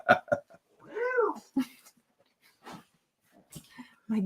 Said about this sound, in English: You have a cat in the room now?